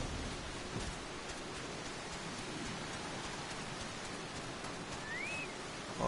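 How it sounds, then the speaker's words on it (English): Steady rain falling over a desert in Final Fantasy XIV, a constant soft hiss of drops with no gaps, even and moderately faint throughout. "Raining in a desert."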